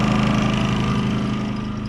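A Champion 4500 W wireless remote generator runs at a steady, even engine hum beside an RV, close and constant throughout with no talking.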